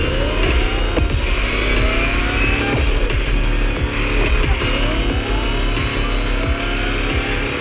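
An electric Lamborghini concept hypercar in the racing game The Crew Motorfest accelerates hard, giving a loud continuous whine and rush with rising pitch sweeps and busy layered game effects throughout, and no talking.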